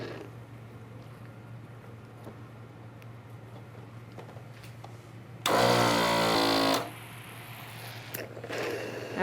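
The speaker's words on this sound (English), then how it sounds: "So I'm attaching one end to the suction, turning on my suction unit." A suction unit hums steadily while it draws water through red suction catheters being cleaned. About a second of loud, harsh slurping sounds as liquid is pulled through, then the faint motor drone goes on alone.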